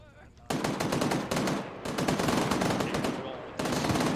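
Rapid automatic gunfire from an ArmA 3 firefight, loud and close, rattling out in several long sustained bursts separated by brief pauses.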